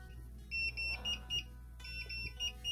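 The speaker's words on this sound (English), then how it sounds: "It makes that beep beep sound." A SoyaJoy soy milk machine signals it has finished with repeated high-pitched electronic beeps in quick pairs and short runs, fairly quiet, over a faint background hum.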